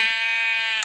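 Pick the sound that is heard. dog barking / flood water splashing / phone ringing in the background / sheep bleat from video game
sheep bleat from video game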